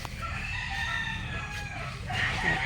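Chickens in breeding pens on a poultry farm, a rooster crowing with drawn-out calls over a busy background of clucking and hen chatter, moderately close and continuous.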